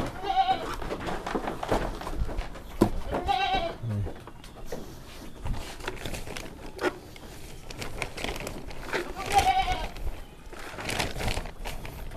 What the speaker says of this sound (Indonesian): Nunggu dikasih makan biar kambingnya nongol semuanya brak bruk brak bruk